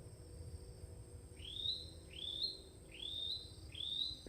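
Wild birds in trees give four rising whistled calls at a steady pace, moderately near, over a faint insect and ambient background.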